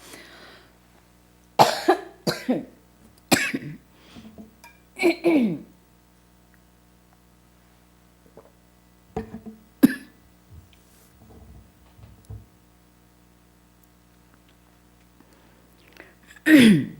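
Several short, sharp coughs come in scattered bursts with quiet pauses between, close and fairly loud, with one throat-clearing cough at the end.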